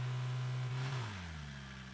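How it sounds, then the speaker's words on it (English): A car engine in a driving survival game drones at a steady low pitch, then sags and winds down after about a second, fairly quiet with no talking. "Wait, is that a car up here?"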